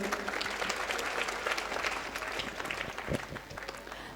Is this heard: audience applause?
yes